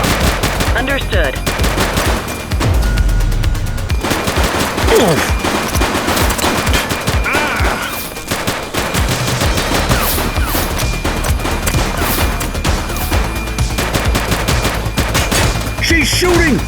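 Loud, sustained automatic gunfire from a police shootout in The Precinct, rapid bursts rattling almost nonstop with a few brief pauses, with faint voices underneath.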